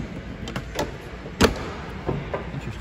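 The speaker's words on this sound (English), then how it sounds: "Interesting how the door handle works too." Door handle clicks and a door closing with a thud on a Land Rover Defender 90, several light taps and latches around one sharper knock, fairly quiet and close with no talk.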